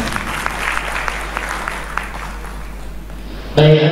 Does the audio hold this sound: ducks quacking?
no